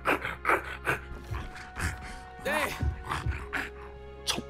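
Voice actor imitates a dragon's growl with breathy, dog-like panting and low rumbling grunts, several short bursts close to the microphone.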